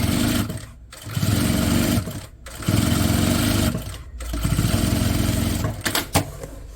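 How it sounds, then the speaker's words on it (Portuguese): A sewing machine runs in three bursts of rapid, even stitching across a slim toiletry pouch for oral-hygiene items. Short pauses separate the bursts, and a few light clicks follow at the end, loud and close with no voices. "Vou passar uma costurinha em cima, viro e vou passar agora uma outra costurinha"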